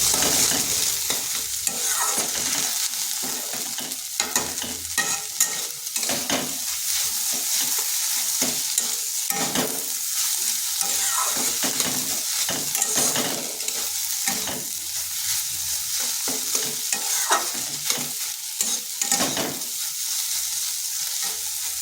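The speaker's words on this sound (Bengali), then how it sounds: "ভালো করে ডিমের সাথে মিশিয়ে নিয়েছি" Steady spatula stirring through an egg mixture with tomato sauce in a pan, a continuous close scraping and sizzling with frequent short clacks against the metal, running without pause.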